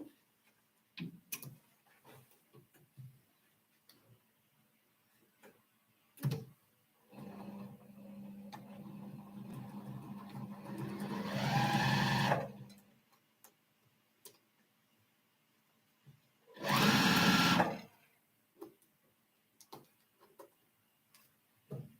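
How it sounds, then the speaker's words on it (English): A home sewing machine runs a quarter-inch seam, whirring steadily for about five seconds and speeding into a louder burst, then after a pause stitching another short, loud run, with scattered clicks and handling noises around it. "I'm going to sew that with a 1/4 of an inch seam allowance"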